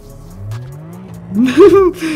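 A car engine revs in the CarX Street mobile racing game, a rising whine climbing steadily and then peaking in a loud, wavering high-pitched snarl before dropping back.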